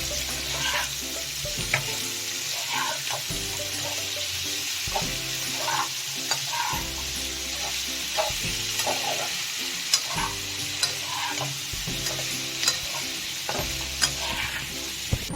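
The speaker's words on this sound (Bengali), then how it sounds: "আলুটাও এর সঙ্গে দেব, ভালো করে এই দুটো ভেজে নেব।" Young jackfruit and potatoes sizzle steadily in hot oil in a pan, with repeated rhythmic scraping and clattering strokes as they are stirred, close and alone.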